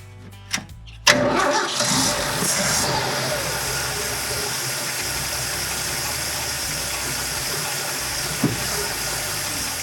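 A Ford Bronco engine cranks briefly and starts after fuel tank work, then settles into a steady, slightly rough idle heard up close for the rest of the clip, with one short blip partway through.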